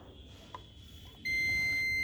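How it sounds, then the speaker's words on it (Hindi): A continuity tester checking a coil on a Panasonic TH-L32E3D TV board gives a loud, steady electronic beep that starts midway and holds to the end, after some faint clicking and handling noise. "ये बीप का साउंड दे रही है गाइस"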